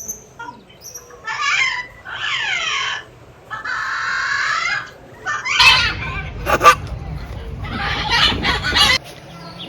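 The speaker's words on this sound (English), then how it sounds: "our next bird is beautiful green colored parrot" A green parrot gives a series of loud, harsh, squawking calls in close, repeated bursts, with some background noise between them.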